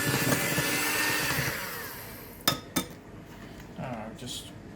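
Electric beaters whir through butter and stevia in a community kitchen as the mixture creams. A steady drone fades out, followed by two sharp clinks and a brief scrape.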